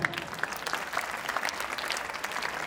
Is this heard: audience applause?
yes